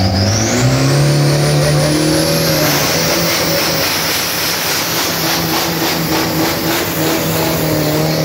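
A loud drag racing car engine screams at full throttle on a 402 m run at Bangkok Drag Avenue, its pitch climbing steadily as it accelerates hard, continuous and close, with no talking.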